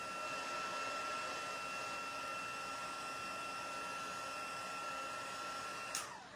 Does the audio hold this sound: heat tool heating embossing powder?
yes